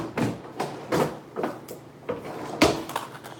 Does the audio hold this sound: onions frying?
no